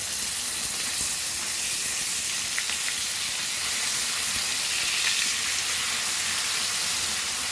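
Goan Hilsa (pedve) fish fries in a pan with a constant, bright sizzle and hiss that holds steady throughout, close and fairly loud with faint occasional pops.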